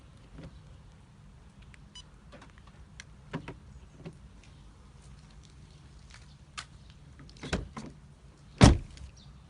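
Central locking and doors of a 2009 Audi A3 being tested, heard as scattered faint clicks and clunks in a quiet setting, with a few thuds near the end and one sharp, loud latch or door slam.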